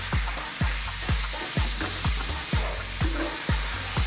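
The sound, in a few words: chopped onions and garlic ginger paste frying, stirred in pan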